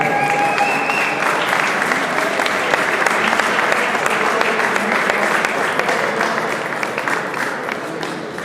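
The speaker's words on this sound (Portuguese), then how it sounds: "Uma salva de palmas para o hotel." Sustained audience applause fills the hall at a custom motorcycle show award ceremony in Setúbal, steady dense clapping throughout with a faint murmur of crowd beneath.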